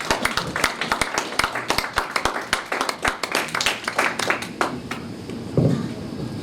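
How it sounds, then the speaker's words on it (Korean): An audience at a Korean forum in 2023 claps warmly to welcome a guest lecturer, a dense, steady round of applause that tapers off after about five seconds, with a brief voice near the end. "우리 한영의 큰 박수로 환영해 주세요"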